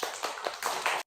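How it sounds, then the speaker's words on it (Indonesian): A few students clapping in a classroom, a brief burst of uneven hand claps with distinct individual slaps, close and moderately loud, ending abruptly. "boleh tepuk tangan?"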